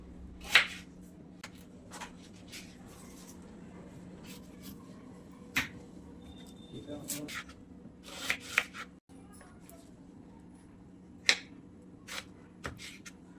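A potato is sliced thin with a knife for a stuffed masala okra dish: sparse, sharp knife-on-board clicks at irregular intervals over a low, steady kitchen hum.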